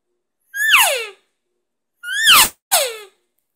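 A human voice imitates elk cow calls, with a little added vocal tone for a more mature sound: three separate nasal, descending mews, each about half a second long, loud and close, with no other sounds.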